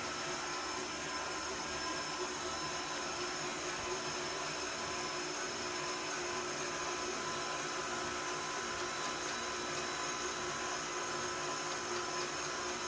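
A stand mixer hums steadily as it kneads vegan bread dough, a continuous even whir at moderate distance that runs unbroken throughout.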